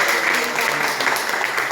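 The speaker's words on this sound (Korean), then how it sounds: "박수를 한번 주세요" Dense, even applause fills a Sunday church worship service, a steady wash of many hands clapping without pause.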